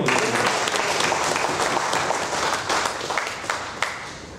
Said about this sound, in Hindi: ताली होनी चाहिए इस बात पे।